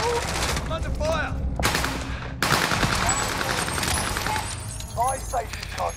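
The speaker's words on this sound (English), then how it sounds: "I'm under fire." Gunfire in the Call of Duty Warzone video game, with repeated bursts of shots under a dense, loud battle mix and voices talking over the action.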